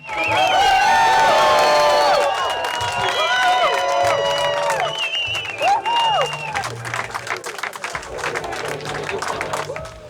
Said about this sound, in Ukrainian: ви самі чули, які були гучні оплески